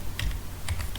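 Typing on a computer keyboard, a few quick, close keystroke clicks in two small clusters, crisp and fairly loud over a low background hum, no voices.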